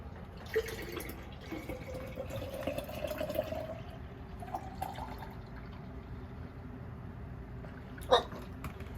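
Milk poured into a jar holding yogurt starter, a soft steady liquid fill with gurgles and a rising pitch as the jar fills, ending with a brief clink near the close.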